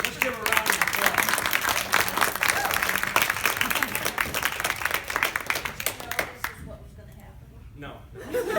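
Audience applause for a chapter president at a Q&A session, a dense burst of clapping with a little laughter and crowd noise, continuous and fairly loud before thinning and fading near the end.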